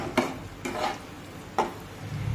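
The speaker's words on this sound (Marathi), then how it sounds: "तर साधारण एक चार ते पाच मिनिटे हा मसाला आपण चांगला परतून घेऊया" Chole masala being sautéed on medium heat in a pan: three scraping strokes of a spoon against the pan over a soft sizzle, fairly close and quiet.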